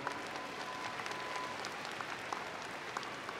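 A high school graduation crowd claps for the class of 2018, a fairly faint, even wash of applause from a large distant audience in a big venue, continuous for a few seconds.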